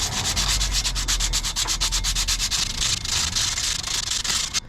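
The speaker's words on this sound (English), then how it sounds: "Some old sandpaper or emery cloth on here does help take off some of the" Sandpaper or emery cloth rubbed over a glazed front brake rotor on a 2014 Honda Odyssey, a loud, steady rhythmic scratching with fast repeated back-and-forth strokes running throughout, with no voices.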